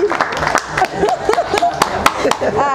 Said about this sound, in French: Ah, on applaudit pour l'acteur principal.